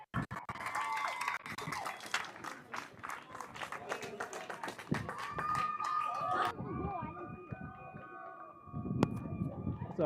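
Applause from a crowd at a youth soccer academy championship final ceremony, a steady dense clapping roar with some cheering, mixed with voices and a faint siren-like tone toward the end.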